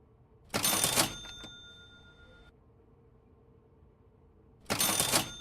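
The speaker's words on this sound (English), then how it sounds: "I love that cash register sound." A cash register in a train operations game rings out as a bright mechanical ka-ching, followed by a lingering bell tone, then a second identical ching a few seconds later over quiet background hum.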